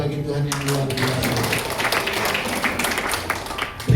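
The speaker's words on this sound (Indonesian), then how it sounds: "Tepuk tangan bagi Tuhan yang luar biasa" Clapping from a congregation at a Christmas Sunday service at Bethany Nusantara church in Malang comes in sharp bursts, mixed with raised voices and sustained tones that partly cover the hand claps.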